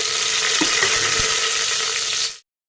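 Chopped onion drops into hot oil in a pressure cooker after bay leaf for a chicken rassa, making a bright, close, continuous sizzle that cuts off abruptly near the end.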